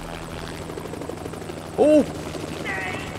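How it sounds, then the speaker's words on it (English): A helicopter in the VR game Crisis on the Planet of the Apes gives a steady, droning rotor rumble in the background, while a person briefly exclaims over it. "Because I can't stand this helicopter anymore and all the angry humans."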